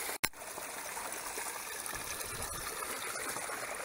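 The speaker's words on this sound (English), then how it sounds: "There's water that comes up through the ground right here." Spring water wells up through the ground beside a rock that acts as a natural dam, near a ram pump's drive pipe. It makes a steady, close trickling flow throughout, with a brief sharp knock near the start.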